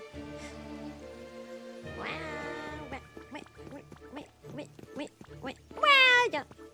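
A person imitates a cat, producing several drawn-out meowing sounds, with a loud, high meow near the end, amid playful talking in a cozy session of the game Pokopia.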